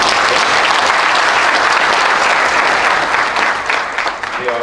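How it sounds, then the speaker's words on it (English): Audience at an engineering school symposium applauds the event's sponsors, a loud, dense and sustained wash of clapping that fills the room and tapers slightly at the end. "they deserve a round of applause in a very special way"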